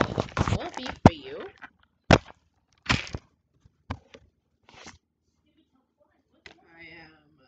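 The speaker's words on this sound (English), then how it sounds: "Shuffle for you guys." A tarot deck is shuffled up close in short, crisp bursts of riffling and snapping separated by quiet pauses, with a faint voice near the end.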